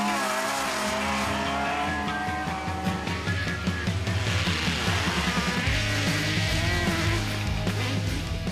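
Cars race on a short course track at a Queensland short course challenge, engines revving hard and shifting pitch as they push around the circuit, with tyre squeal and skidding mixed into a loud, continuous roar.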